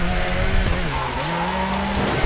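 A WRC rally car in Division WRC on Rally France tarmac in the game WRC4 pulls a handbrake turn, its engine droning steadily as the revs dip and climb through the slide, loud and close.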